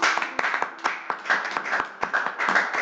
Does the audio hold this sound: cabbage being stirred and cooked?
no